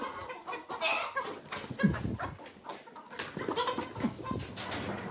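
A chicken being chased and caught on a small poultry farm, with busy clucks and squawks scattered across the clip, close by, along with rustling and scuffling sounds of the catch.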